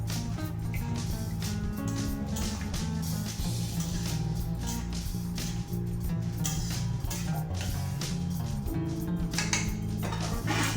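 Stirring pumpkin and potato curry in a pot, with repeated scraping and clinking of a utensil against the metal pot, close and busy over a steady humming background.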